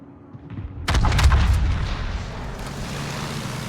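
Heavy guns of the Yamato battleship firing in a naval video game: a thick, loud boom cluster near the start, then a rumbling decay and sustained low roar with no talk.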